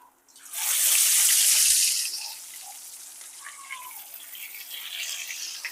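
Fish pieces hit hot oil with crushed garlic, setting off a sudden loud hissing burst that lasts about a second before dying down to a quieter, steady sizzle.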